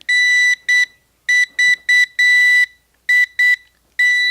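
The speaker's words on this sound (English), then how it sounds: "So that beeping you hear right now is coming from the remote itself" An Nvidia Shield TV Pro remote emits loud, high-pitched electronic beeps from its find-remote feature, coming in an irregular run of short and longer pulses close by, with no other sound in between.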